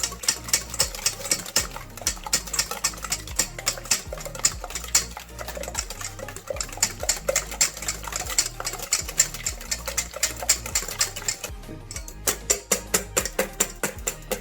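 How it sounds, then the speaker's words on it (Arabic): Sugar and eggs are whisked together for chocolate fondant batter, giving a fast, steady, close rhythmic tapping and scraping against the bowl that runs throughout, with no talking. "غادي نخلطوهم مزيان حتى يذوب السكر ديالنا"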